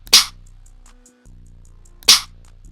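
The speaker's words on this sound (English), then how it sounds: "First, I started with the snare from" A snare sample from a drum kit cracks twice, about two seconds apart, each hit sharp and bright over a low, droning bass that cuts out briefly between them.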